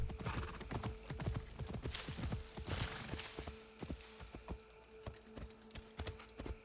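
A horse's hooves clip-clop steadily on hard ground in Assassin's Creed Shadows, a brisk rhythmic trot heard close, with a faint whinny and soft background ambience.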